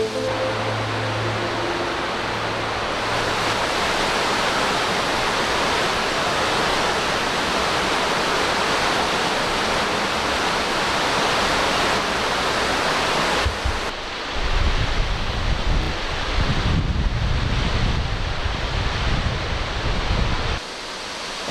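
An 84-foot waterfall near a village, heard as a loud, continuous broadband rush of falling water, steady throughout with deeper rumbling and gusty wind buffeting the microphone in the later part.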